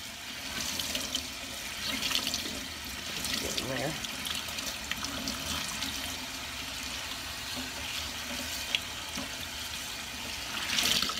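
Tap water runs steadily into a sink while a tie-dyed shirt is rinsed by hand, a constant splashing rush with brief louder sloshes, and a person speaks briefly over it.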